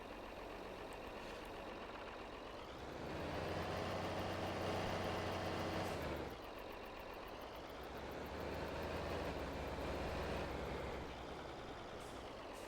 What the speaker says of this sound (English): I really wish this tractor backed up a little faster, though